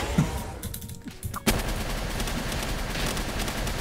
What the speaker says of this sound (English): There are just so many explosions, I can't see anything.